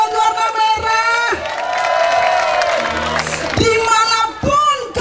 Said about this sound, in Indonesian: Berikan tepuk tangan buat warna merah.